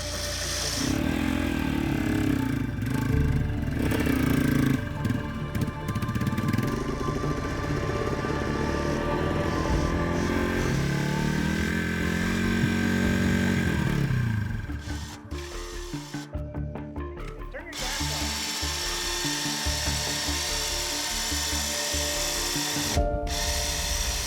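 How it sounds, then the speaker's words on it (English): A winch hauls a Yamaha TW200 motorcycle up a steep hard enduro climb, a steady loud mechanical whine and grind that holds and shifts pitch, cuts briefly, then resumes. "finally breaking out the winch"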